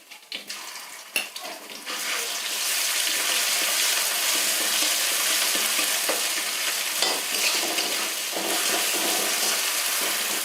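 Onion and garlic sizzle loudly in hot oil in a pan, a dense steady frying hiss that rises after a few quiet seconds of stirring and scraping and continues close up.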